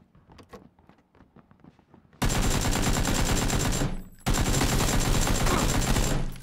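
Dense shotgun gunfire from the video game PUBG erupts loudly and continuously, breaking off for a moment before another sustained barrage.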